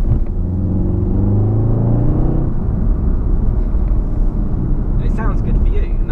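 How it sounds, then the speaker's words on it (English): A VW Golf R on a dry, cold road gives a loud, steady engine and exhaust drone with a rising tone early on, then a constant low rumble. A voice talks over it. "Car sounds good."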